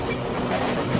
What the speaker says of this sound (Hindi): कुछ देर बाद इन लोगों की ट्रेन एक पुराने स्टेशन पे आकर रुकती है।